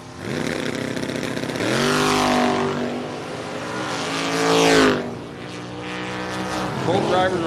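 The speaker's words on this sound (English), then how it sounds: "Caleb Petticore getting the handicap head start in the Mustang" A Mustang drag car roars off the line at a handicap drag race, engine pitch sweeping upward through gear changes, loud and close at first, with a commentator talking over it.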